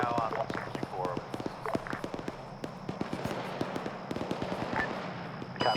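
Scattered gunfire from an enemy squad in the video game ArmA 3 crackles as rapid, irregular distant shots, with voices talking over the shooting.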